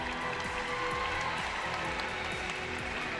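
A large arena crowd applauds steadily after a gymnastics pyramid routine at a national championship, dense continuous clapping with faint commentary beneath.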